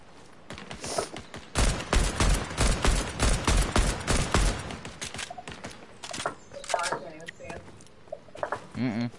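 Rapid bursts of gunfire in a Fortnite match, a dense volley of loud shots in the first half, then more scattered, lighter shots follow while players chat over it.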